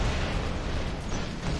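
Robot weapon fire in the War Robots video game, a steady loud wash of explosive blasts and booms that blur together with no pauses.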